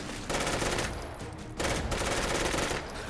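A heavy-recoil gun in a video game fires two long rapid automatic bursts separated by a short pause, loud and close, with no talking over it.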